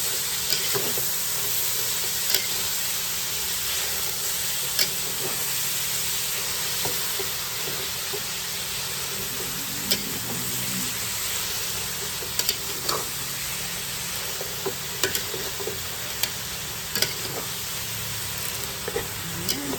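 A Chinese-style dish sizzles steadily in a pan for a long stretch, with close, broad hissing and frying crackle broken by regular scraping taps of stirring.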